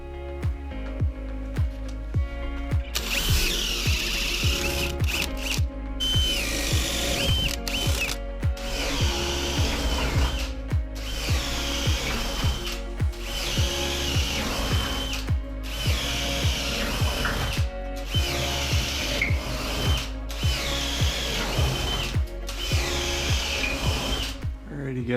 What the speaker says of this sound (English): So we got a lot of drilling to do.